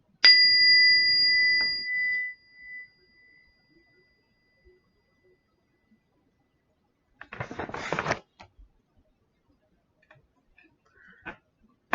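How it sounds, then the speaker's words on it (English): A single bell is struck in a moment of remembrance for ancestors, and its clear ringing tone sustains for about two seconds before fading. Quiet rustling follows later. "we're gonna ring a bell to honor ancestors just for a moment"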